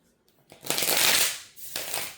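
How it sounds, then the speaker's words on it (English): Playing cards shuffled close by, a dense riffling burst that swells and fades, then a second shorter riffle, with no talking. "Let me shuffle."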